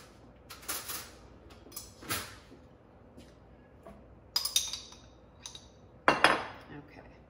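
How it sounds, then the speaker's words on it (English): Metal spoon clinking against dishes while making meatloaf in a home kitchen: scattered light clinks and taps, a few sharper ones near the end, over quiet room noise. "So I'm gonna get a new spoon so that I don't contaminate this."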